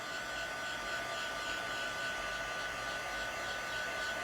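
A heat embossing tool blows hot air steadily from underneath a card, an even, fairly quiet whooshing hum with a thin whine held throughout and no speech.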